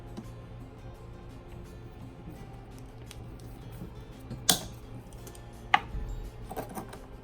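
A pair of cutters snips through plastic clamps on an X3 pump with two sharp, crisp snaps a little over a second apart, close and distinct. Faint ticking and handling noises fill the quiet between them.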